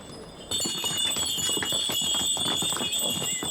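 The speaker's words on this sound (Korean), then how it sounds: "당나귀 방울 소리가 요란하다." Donkey bells jingle steadily alongside clopping hooves in a village on Santorini, a busy, continuous metallic ringing that starts abruptly and carries on close by with no talk.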